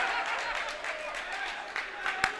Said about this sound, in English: Berger checks out to a nice round of applause